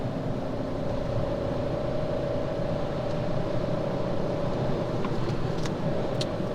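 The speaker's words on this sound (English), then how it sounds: "It's kind of noisy. We're driving along here at the minute, 60 miles an hour" A 2016 Fiat Panda Cross TwinAir with its 0.9-litre engine cruising at 60 mph: a steady, fairly loud drone of engine and road noise with a constant hum throughout, no talking.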